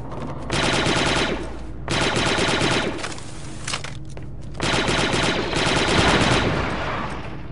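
Blaster gunfire in the Star Wars Republic Commando video game: loud sustained bursts of rapid shots in three long volleys with brief gaps, dense and close.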